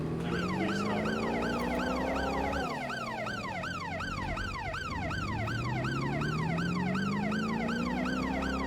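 A police car siren in Watch Dogs: Legion wails continuously, sweeping up and down in a fast repeating yelp, loud and close over a low engine drone, with a brief dip in pitch partway through.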